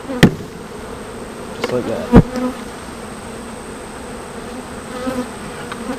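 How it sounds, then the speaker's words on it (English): Honeybees from a nucleus colony being banged into a ten-frame hive box, giving a couple of sharp knocks followed by a steady, moderate buzz of many bees close by, with a brief spoken phrase. "bang the bees into the box."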